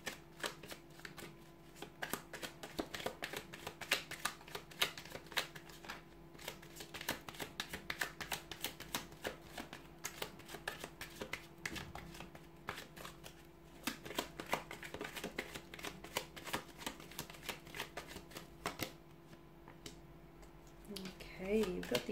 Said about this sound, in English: we'll go ahead and give the cards a shuffle